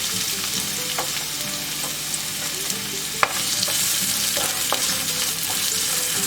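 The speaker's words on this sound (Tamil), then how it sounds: "ஒரு மீடியம் சைஸ் வெங்காயத்தை பொடி பொடியாக நறுக்கி சேர்த்துக்கோங்க." Finely chopped medium onion sizzles in hot oil in a kadai, a steady dense frying hiss punctuated by occasional clicks of a stirring spoon, close and continuous with no talking.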